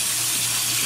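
Tap water runs steadily onto a shaving brush held under the faucet, a soft continuous hiss and splash with no voices.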